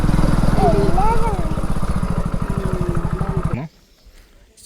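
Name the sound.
motorcycle engine idling while being parked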